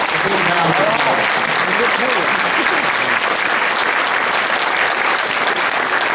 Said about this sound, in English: Let's give all those special teachers a big round of applause.